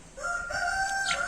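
A rooster lets out one short, close crow with a rising, strained tone, clear and alone with no talking over it.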